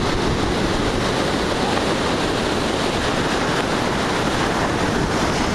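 Ocean surf roars in a dense, unbroken wash at Hermosa Beach Pier, California, in the early morning, loud and close with wind buffeting the microphone and no voices.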